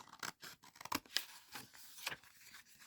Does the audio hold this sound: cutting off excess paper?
yes